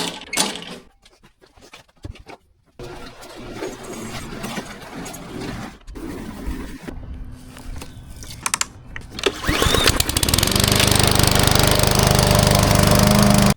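A PowerSmart 22-inch self-propelled gas lawn mower runs up close, its engine droning with some choppy dropouts before roaring steadily louder near the end.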